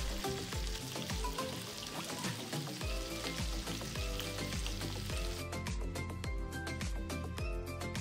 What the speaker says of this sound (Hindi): अब गोश्त को कलर आने तक अच्छी तरह फ्राई कर लेते हैं।